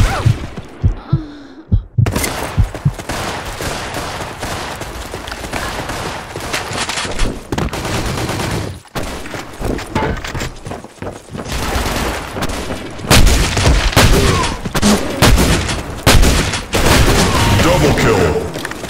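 Rapid bursts of gunfire and booms from the online shooter BlackShot fill the clip almost continuously, loud and dense after a brief quiet start, with a short dropout midway and a heavier barrage near the end.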